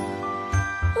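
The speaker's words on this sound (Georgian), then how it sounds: "ზარი" A school bell rings in a short bright jingling burst, with a couple of low thumping accents toward the end, heard alone without talk.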